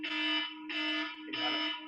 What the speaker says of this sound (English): That's my alarm to wake up.